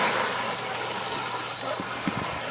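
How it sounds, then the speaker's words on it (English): Water gushes from an opened valve on a ram pump setup into a bucket, a steady loud hiss and rush of flow throughout, close by with a few small knocks near the end. "Okay, right now I'm filling the bucket."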